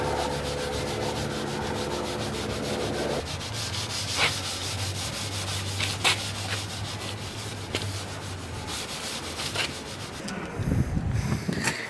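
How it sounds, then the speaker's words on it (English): A grey Scotch-Brite pad with scuffing paste is rubbed back and forth over a car body panel, giving a steady close-up abrasive scrubbing that runs through the whole stretch with small louder strokes. "just go over the rest of the panel with the pad and the scuffing paste"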